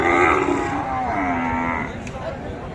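A bull bellows a long, loud moo at a crowded village cattle market in Dinajpur, Bangladesh, the low drawn-out call rising over background crowd noise.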